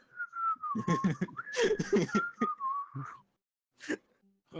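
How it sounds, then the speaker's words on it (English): A person whistles a wavering tune, sliding up and down in long phrases with a brief break, accompanied by soft shuffling and a chuckle-like sound, then a short noise near the end after a pause. "I'm just sitting in the sand whistling to myself"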